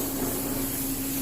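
Cooking spray hisses steadily into a pan in a Coast Guard station galley. The spray is one short, continuous burst heard up close over a faint background hum.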